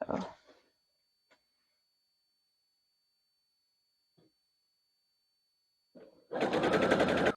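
A sewing machine stitching quilt blocks together starts up and runs in a fast, steady whir near the end, after mostly quiet moments with a few faint taps.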